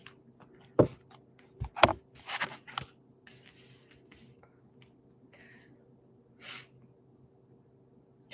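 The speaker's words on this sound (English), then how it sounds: "Okay, so I'm going to pull 3 cards here." Tarot cards are pulled one by one from a deck, giving a few quick papery slides and snaps close by, then quieter rustles in a hushed room.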